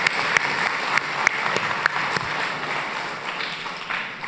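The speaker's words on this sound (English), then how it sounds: "So let's give an applause again." Audience applause at the National Civics Bee competition held at the Nixon Library in California, a sustained crowd clapping with sharper individual claps early that gradually thins out.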